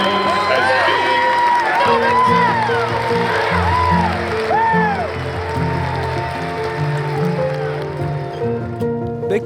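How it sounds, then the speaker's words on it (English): A stadium crowd of football supporters claps steadily in memory of a fan, a loud, sustained wall of applause with scattered whistles and calls rising over it. "We now ask that you join us in a moment of applause to celebrate the life of Patrick Urban"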